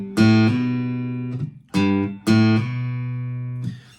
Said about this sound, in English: we're going to hammer on after that note